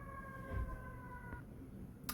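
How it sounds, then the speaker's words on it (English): Fire truck siren wailing in the distance as it passes, a few sustained rising and falling tones that fade and cut out partway, faint behind a quiet indoor room. "It's a fire truck."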